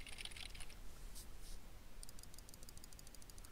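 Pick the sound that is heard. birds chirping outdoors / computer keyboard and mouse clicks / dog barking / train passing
computer keyboard and mouse clicks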